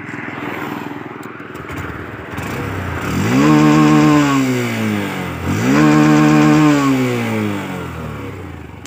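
A Honda SP Shine 125 BS6 motorcycle engine idles steadily, then revs up twice in rising and falling sweeps, loud and close, settling back to idle between.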